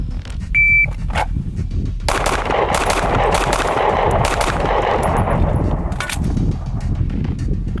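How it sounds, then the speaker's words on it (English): Rapid handgun fire during practical combat shooting practice: a loud, dense string of fast shots in quick succession, close and echoing outdoors, with brief pauses at the start and end and a short beep before the shooting. "He's shooting fast"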